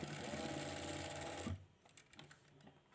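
A sewing machine stitches fabric in a fast, even, whirring run for about a second and a half, then stops, leaving faint scattered clicks and handling noises.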